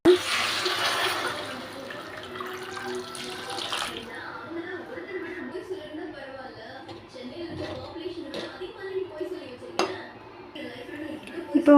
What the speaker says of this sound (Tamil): உங்களுக்கு வந்து இப்போ தேவையான அளவு தண்ணி ஊற்றிக்கலாம்